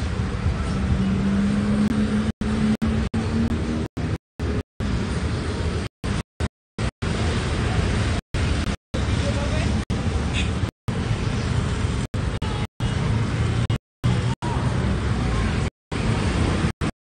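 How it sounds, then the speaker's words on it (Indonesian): Steady city traffic on a street in central Ambon on a weekday afternoon forms a loud, continuous roar of passing vehicles, cut by frequent brief dropouts. "Inilah kondisi lalu lintas di kawasan Aepati"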